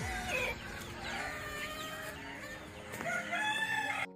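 A native country rooster with a single comb crows loudly and close by, a long harmonic cock-a-doodle-doo call with a second crow near the end and no talking.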